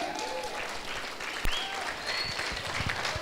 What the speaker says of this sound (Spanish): Aplauda al Señor con alegría.